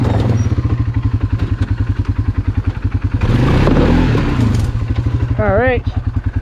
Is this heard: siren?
no